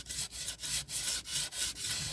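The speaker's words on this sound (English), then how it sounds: "And so when I sand it," Steady back-and-forth sanding on the chipped spot of a thrift-store item, about eight rhythmic rasping strokes close by, loud and even with no talking.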